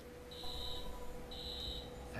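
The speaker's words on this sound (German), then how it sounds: "Alarm ist ausgelöst." An alarm goes off in the video game Watch Dogs, two shrill electronic buzzing tones about a second apart over a low steady hum, fairly faint.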